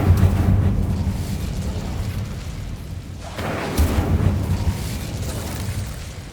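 The Incendio fire spell in the video game Hogwarts Legacy roars as a sustained fiery blast, with a dense rumbling whoosh that swells at the start and surges again midway.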